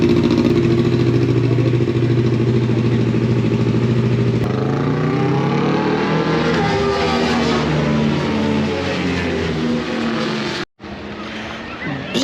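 A Yamaha R3 on the circuit du Luc, its engine droning loudly at steady revs, then climbing and shifting as the bike accelerates, with wind buffeting and a brief dropout near the end.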